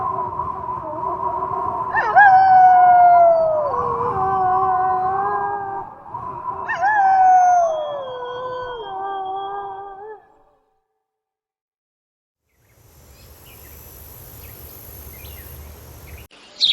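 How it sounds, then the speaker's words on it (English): A hungry wolf howls in two long, sliding, tonal wails, each rising then falling, loud and close, followed by a quiet gap and then a low rustling background. "a wolf sat on the rock that was Sylvester and howled because he was hungry"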